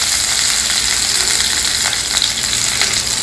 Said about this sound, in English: First take a little bit of oil in a pan. Adding a little bit of this crystal hing, it will give a lovely flavor, and a few curry leaves also.